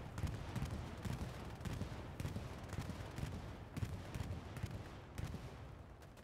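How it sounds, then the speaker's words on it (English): An Allied bombing run in the World War II shooter Hell Let Loose hits as a rapid series of heavy, rumbling detonations, dense and continuous, mixed with scattered gunfire. "Bombing run comes in from the allies."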